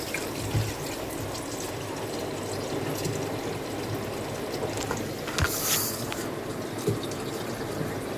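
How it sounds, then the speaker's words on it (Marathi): Water splashing and running as something is rinsed, a continuous wet wash with a few louder sloshes and drips, close and without talk. "मस्त 2-4 पाण्याने धुवून घेते"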